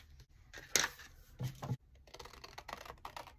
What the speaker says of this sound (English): Here I have a piece of scrap paper and I'm going to use it to kind of roughly outline and make a shape of the window that I want.